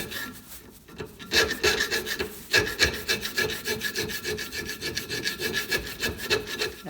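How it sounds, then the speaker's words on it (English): A hand file rasps steadily across the sharp edges of a hatchet head, chamfering the inside of the eye, in quick repeated strokes, close and fairly loud with no talking. "we're just going to take a file and we'll file these sharp edges"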